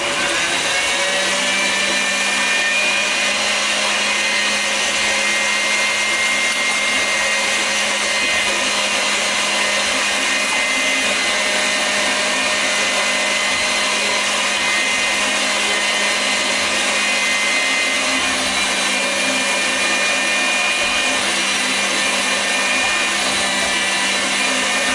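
Sausage stuffer machine pushing meat into Argentinian chorizo casings, a steady continuous motorized whir with a low hum that holds at an even level throughout, no talking.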